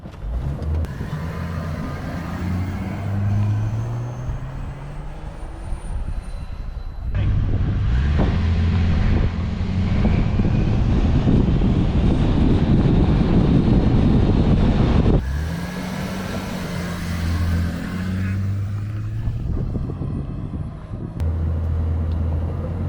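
A Toyota Land Cruiser 80 Series with a big-bore six-cylinder engine accelerates, its engine note rising in pitch, then swelling into a loud, sustained roar with wind rush before settling back to lower rising tones.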